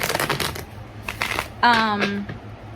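Tarot cards are shuffled in quick, papery riffles and then pulled from the deck, with a voice talking over parts of the handling.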